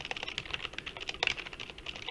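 Typing on a computer keyboard, a rapid, uneven run of close, crisp key clicks with a few louder taps, heard alone in a quiet room.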